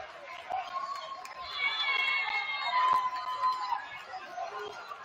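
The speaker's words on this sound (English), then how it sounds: "The crowd for Pequannock has gone wild as Cresskill cannot believe it." A gym crowd at a Pequannock vs. Cresskill boys high school basketball semifinal roars and shouts, the noisy cheering swelling toward the middle and staying loud throughout.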